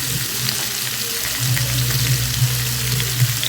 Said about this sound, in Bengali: এবার এটাকে ভালোভাবে ভেজে নেব